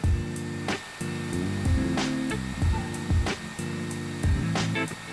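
A heat gun blows hot air in short bursts onto a OnePlus 7T phone skin, cutting on and off repeatedly with a close, loud whirring fan roar.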